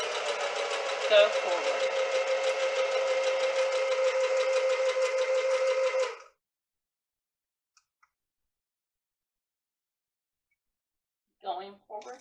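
A sewing machine stitches fabric in a steady, rapid mechanical hum for about six seconds, then stops into silence before a brief spoken instruction.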